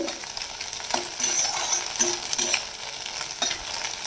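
Scrambled egg fries in a pan with a soft sizzle while a utensil stirs and scrapes it in quick, irregular strokes, close and alone without speech.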